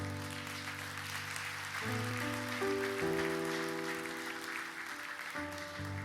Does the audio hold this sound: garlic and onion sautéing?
no